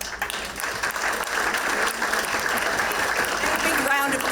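Sustained applause from a luncheon audience honoring staff, a dense steady wash of clapping that stays loud for the whole stretch.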